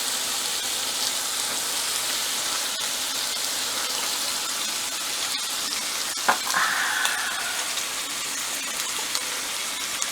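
Curried beef fries in a pan with samosa spice mix, giving a steady, fairly loud sizzle that runs throughout with a brief brighter hiss near the middle.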